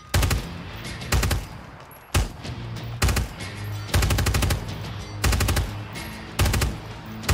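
Bursts of machine gun fire in the tactical shooter game Ground Branch, from a BKM and an MK46: several loud, rapid strings of shots separated by short pauses, each burst with a sharp attack and a rumbling tail.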